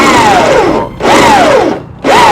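A power drill bores holes through a pure carbon fibre pickup hood on a Toyota Revo, three loud, close whining bursts that rise and then sag in pitch, separated by short pauses.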